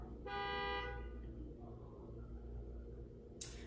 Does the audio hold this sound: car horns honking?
yes